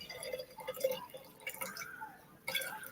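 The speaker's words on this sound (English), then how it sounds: "And pour your vinegar in." Vinegar pours into mason jars for homemade pickles, a steady splashing, trickling flow with bright liquid spatter, a brief pause, then a louder renewed pour near the end.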